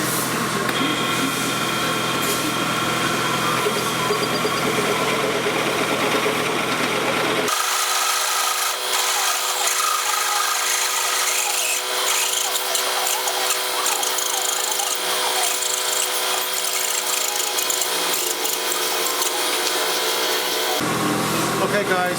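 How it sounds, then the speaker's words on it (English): A half-inch drill bores into a metal cylinder block, grinding and scraping continuously and loudly, its tone shifting partway through as the bit bites deeper, with no talking. "I'm going to try and drill with a 1/2 inch"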